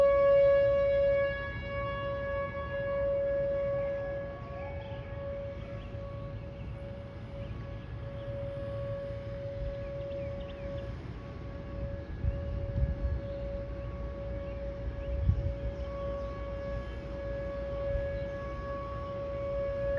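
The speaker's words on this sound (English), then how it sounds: "Cobb County tests its sirens for about 3 minutes, and they do it weather permitting on the first Wednesday of each month." Cobb County, Georgia civil defense tornado siren during its monthly test, a steady sustained wail holding a constant pitch with harmonics, moderately loud against low rumbling background noise, no voices.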